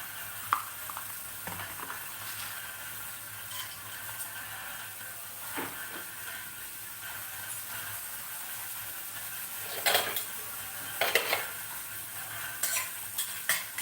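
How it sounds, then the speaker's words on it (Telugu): Dried red chillies, chana dal and urad dal crackle and sizzle quietly in a pan as tempering, with intermittent stirring scrapes and a few sharper clinks of a utensil. "వీటిని ఇప్పుడు బాగా పోపు వేగే వరకు వేయించుకోవాలి"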